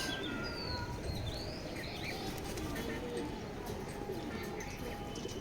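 Racing pigeons, a hen among a breeding pair, coo softly in a loft amid steady background noise, with faint chirps and scattered bird calls mixed in.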